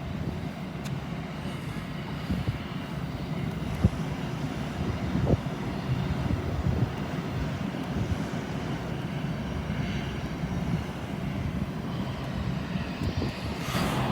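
An Aer Lingus airliner arriving at an airport, heard as a steady, fairly distant jet engine roar holding at an even level throughout the whole stretch, with no voices.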